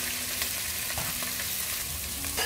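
Onions, green chili and curry leaves sizzle steadily in hot oil in a kadai for Chennai-style mutton biryani, a loud, close, continuous frying hiss with faint stirring scrapes and no voices.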